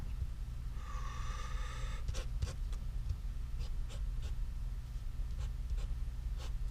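A pen scratches across paper, drawing the carbon skeleton of a chemistry structure, giving close, steady strokes with short pauses between lines.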